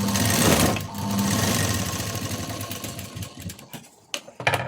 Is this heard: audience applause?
no